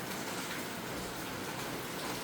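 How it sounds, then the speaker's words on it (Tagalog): Heavy typhoon rain from Typhoon Ramil pours down in a dense, unbroken hiss, steady and even throughout with no voices. "Ang lakas ng ulan."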